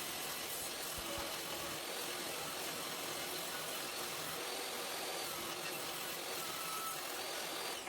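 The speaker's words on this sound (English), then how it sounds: "So the first thing I do is cut the decorative moulding off one side using the table saw." A table saw cuts decorative moulding off a painted wooden piece for a child's chair, a loud continuous whirring roar that holds steady throughout, close by with no voices.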